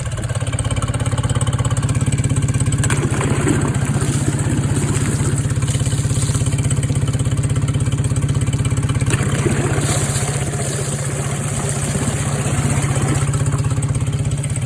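A Yamaha 9.9 High Thrust outboard motor idles steadily at close range with a low, even drone, dipping briefly and picking back up partway through, with no talk over it.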